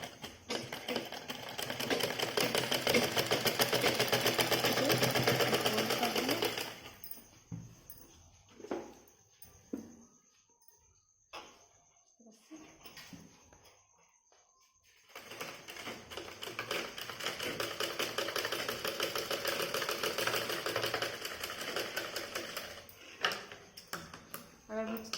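A sewing machine runs in steady, loud bursts while hemming a blouse: about seven seconds of continuous stitching, a quiet stretch with faint handling noises, then another long run of stitching.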